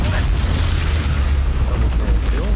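A Confringo fire-blast spell from the Hogwarts Legacy video game booms loud and heavy, with a dense low rumble sustained throughout and little break in intensity.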